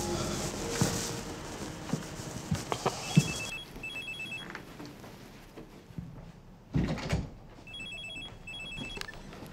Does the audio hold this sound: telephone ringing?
yes